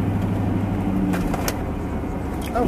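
A car towing a trailer idles and creeps while turning around in a dead-end cul-de-sac, its engine a steady low hum with a faint tonal whine and small clicks, no one speaking.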